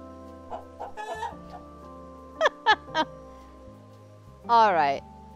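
Clucking chicken sounds from the video game Calico, a few short bursts followed by a louder squawk near the end, all over steady game background music.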